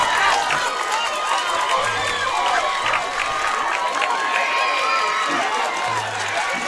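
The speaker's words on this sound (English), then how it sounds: "Jed Rodden has sent this crowd into a frenzy" A high school baseball crowd roars and cheers continuously after a run scores at the plate. Loud, dense shouting and applause carry throughout, with scattered voices rising above the din.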